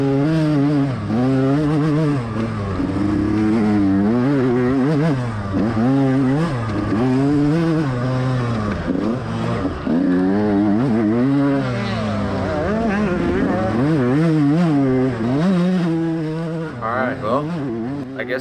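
A dirt bike races alone through a GNCC off-road course at Mason Dixon, its engine close and loud, revving up and down in repeated surges as the rider shifts and works through rough terrain.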